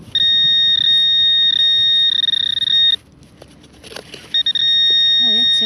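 A Garrett Pro Pointer metal detector sounds over a $1 coin buried a few centimetres down at old mansion ruins. It gives a loud, steady electronic tone, breaks off for a moment, and the same tone comes back.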